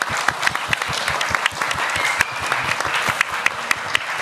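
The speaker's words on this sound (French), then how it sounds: "Merci, applaudissez-vous." Steady audience applause at a podcast festival in Paris, many hands clapping densely and continuously from a crowd, fairly loud throughout.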